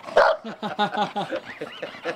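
A puppy barking and yipping in quick short bursts, close and fairly loud, several rapid barks over about two seconds with no talk.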